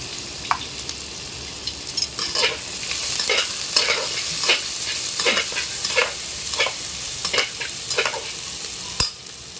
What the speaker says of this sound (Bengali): এবার পেঁয়াজটা দিয়ে দিই। এবার থেতো করা 2 কোয়া রসুন দিয়ে দিচ্ছি।